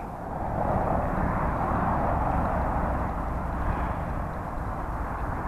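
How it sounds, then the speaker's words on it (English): A couple of military helicopters pass overhead, a steady, broad, rumbling roar that swells and then slowly fades, heard outdoors with no talking. "a couple of helicopters, military helicopters just come across"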